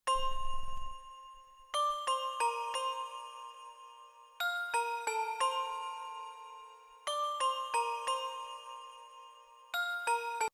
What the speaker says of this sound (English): This is how that bell counter melody sounds.